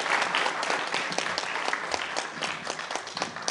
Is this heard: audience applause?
yes